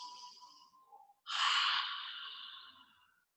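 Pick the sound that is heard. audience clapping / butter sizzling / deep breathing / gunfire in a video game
deep breathing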